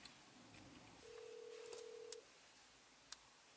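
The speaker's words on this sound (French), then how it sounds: "donc j'en vais l'appeler." A phone call being placed: one steady ringback tone lasts about a second, with a couple of faint clicks around it, quiet against a low background hush.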